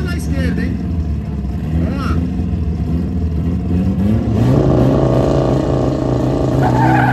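A modified six-cylinder Chevrolet Opala races a forged stage 3 VW Up TSI on a track, with loud engine roar, rising revs and tire noise. Voices are heard over the engines.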